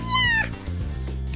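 A small kitten gives one clear, close meow, followed by softer trailing vocal sounds at a grandmother's house.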